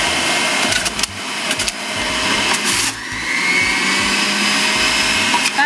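A juicer grinding whole Pink Lady apples, a loud close motor whir with rough crunching bursts and short dips in load as fruit feeds through, running without pause.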